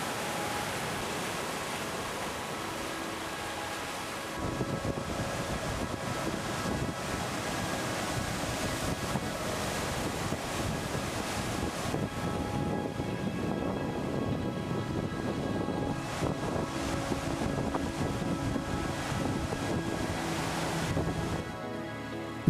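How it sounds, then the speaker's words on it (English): Rough ocean surf still churned up after a cyclone on the west coast of Tanna, Vanuatu, roars as a continuous broad wash with surging swells, loud and steady with no voices. "the ocean is still in turmoil after the cyclone"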